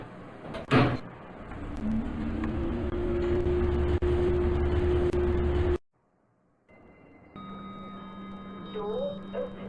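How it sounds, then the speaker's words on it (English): OTIS traction elevator doors sliding shut in a shopping centre, a steady mechanical rumble and whine lasting several seconds before cutting off abruptly, followed by quieter hum and tonal chimes or beeps. "Doors closing."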